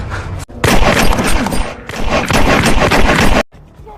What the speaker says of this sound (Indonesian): Jimmy langsung menembak Rob berkali-kali hingga tewas.